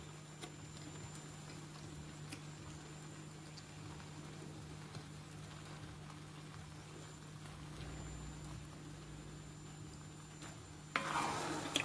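Jollof rice stew frying in a pot over low heat, a steady soft sizzle with occasional stirring scrapes, close and continuous, then a brief louder burst near the end.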